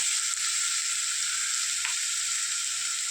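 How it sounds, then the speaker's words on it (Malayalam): Onion, green chili and ginger sauté in a hot pan with a steady, even sizzle, broken once by a brief soft scrape near the end, with no voices. "ഈ ഉള്ളിയും പച്ചമുളകും ഇഞ്ചിയൊക്കെ ഒന്ന് വഴന്ന് വരട്ടെ"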